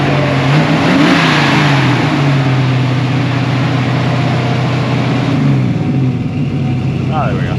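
A hot rod car does two-wheel burnout peels, its engine revving and droning loudly and steadily for the whole stretch, with tire and exhaust roar and people's voices chattering underneath.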